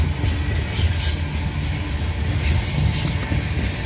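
A freight train rolls past with a distributed power unit locomotive mid-train, a loud continuous low rumble and rattle of wagons close by.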